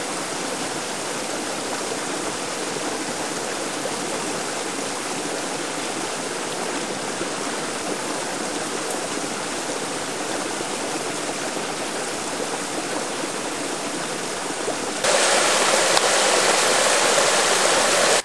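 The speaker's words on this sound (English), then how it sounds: "go hang it in the river and let it get nice and cold from the creek over there" A wilderness creek swollen with winter runoff rushes steadily, a loud, dense, unbroken wash of flowing water with no voices, growing brighter and louder near the end.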